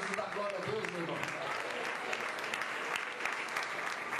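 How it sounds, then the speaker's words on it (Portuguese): A church congregation breaks into applause, a thick, even wash of clapping from many hands, with a voice speaking over the start. "Você pode aplaudir a Deus por isso?"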